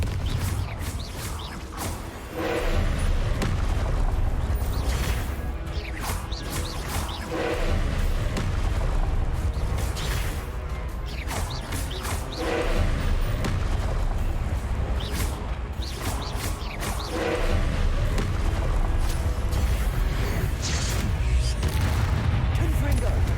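Confringo blast spells in Hogwarts Legacy going off as repeated booming explosions with crackling impacts over a low rumbling bed, fairly loud, with voices heard at times beneath the combat.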